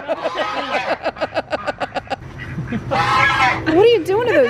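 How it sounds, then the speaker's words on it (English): Ducks at Gatorland give a run of rapid, evenly spaced quacks, then a burst of louder honking calls, all close by, with a person talking over them. "What are you doing to those poor ducks?"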